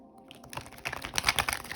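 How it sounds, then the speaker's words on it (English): Tarot cards being shuffled during a reading, a quick run of soft, dense riffling clicks close by that builds over under two seconds, with no talk. "All right, I'm gonna shuffle."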